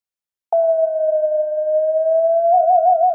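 An eerie synthesized ghost sound effect from a video game hums steadily at one pitch for about three seconds, then takes on a wavering, warbling vibrato near the end.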